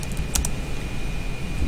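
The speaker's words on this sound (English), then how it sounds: "If I type in IP address" An IP address is typed on a computer keyboard: a short burst of a few soft, close key taps over a faint steady background hum.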